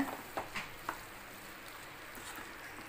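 Potato poriyal with ground coconut paste being stirred in a pan over low flame, a faint quiet sizzle with a few soft spoon scrapes near the start, then a low steady crackle.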